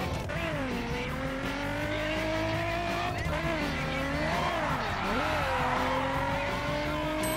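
A car in The Crew racing game drifting with a revving engine and long squealing tires sliding throughout, loud and continuous, with a brief knock where it strikes a streetlight.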